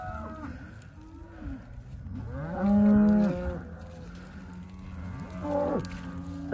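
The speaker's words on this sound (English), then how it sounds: "Friendly cows, they fight over your affection." Cattle moo repeatedly in a herd at calving season, several long low calls of varying pitch, one louder and nearer around the middle, with no talking.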